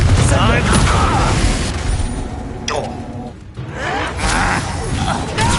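Confringo blast spells firing in the Hogwarts Legacy video game, several loud booming bursts over continuous battle noise with voices talking throughout.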